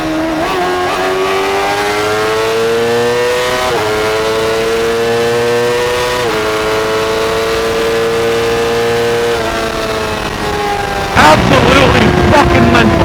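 A brand-new motorcycle pulls hard through the gears, its loud, close engine note climbing in pitch, dropping briefly at each shift, then climbing again, with a rush of wind noise near the end.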